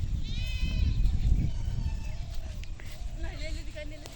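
Goats bleating in a field, several wavering calls near and mid-distance over rustling movement, with people's voices in the background.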